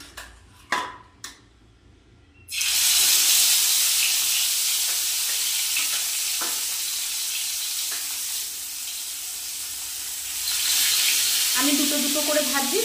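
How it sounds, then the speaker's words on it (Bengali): A few light clinks of a pan give way to a sudden loud sizzle as rohu fish pieces go into white oil on a tawa, the hiss holding steady and swelling again near the end with some faint murmuring underneath. "সাদা তেলের মধ্যে এবার একে একে আমি মাছগুলো ভেজে নেব।"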